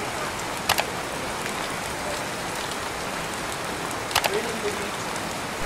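Steady rain falling outdoors, an even hiss throughout with a couple of brief sharper taps; someone speaks in the background.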